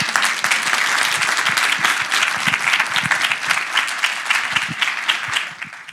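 Audience applause fills a lecture hall, dense and sustained clapping at moderate loudness that thins slightly toward the end.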